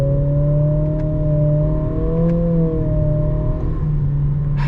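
Cabin drone of a 2025 Acura ADX A-Spec Advance compact crossover accelerating through a corner, a steady engine hum with tones rising slightly as the throttle opens, heard from inside the car with no talking.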